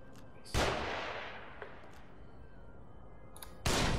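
Gunfire in the horror video game The Evil Within: two sharp loud shots with a decaying tail between them, the second near the end, over a quiet background.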